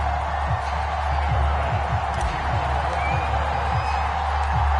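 A Buffalo stadium crowd in an EA Sports NFL video game roars and cheers as the Bills run out of the tunnel, a steady, loud wash of massed voices with faint low thumps underneath.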